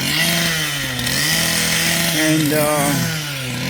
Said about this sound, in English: We're going to cut these last bars of steel coming out of the ground, throw them in the hole.